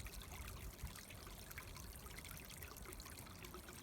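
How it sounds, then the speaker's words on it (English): A temporary snowmelt stream flows in a steady, unbroken trickling wash, faint and at a distance, with no voices. "that's a nice long continuous sound, the sound of the stream"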